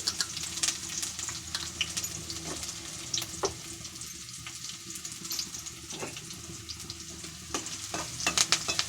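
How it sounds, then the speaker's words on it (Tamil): Small onions sauté in a hot pan with a steady sizzle, broken by frequent scraping stirs of a spoon over about nine seconds. Nobody speaks. "இதை நல்லா வதக்கிக்கிடணும் வெங்காயத்தை வெங்காயம் வதங்கிக்கிட்டு இருக்கு"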